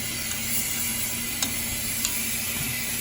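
White onions, a quarter cup, sizzle steadily in a hot pan while being stirred, a constant close frying hiss with a couple of faint utensil taps.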